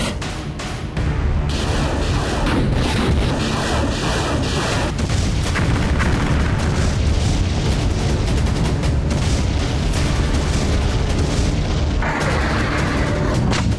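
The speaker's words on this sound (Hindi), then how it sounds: "ये दूसरे काउंटर अटैक की बारूदी आग है जो युद्ध के मैदान में भड़क चुकी है।" Dense artillery booms and gunfire on a Ukrainian battlefield during a counteroffensive, a loud, continuous roar of blasts layered with sharper bursts throughout.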